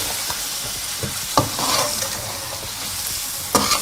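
Ginger garlic paste being stirred into sizzling chicken karahi over high heat, a spatula scraping and clattering against the pan in a few sharp strokes over steady, close frying hiss.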